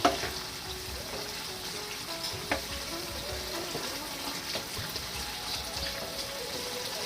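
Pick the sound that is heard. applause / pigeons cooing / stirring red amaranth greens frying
stirring red amaranth greens frying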